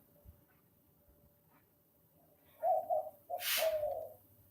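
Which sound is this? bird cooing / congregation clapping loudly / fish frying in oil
bird cooing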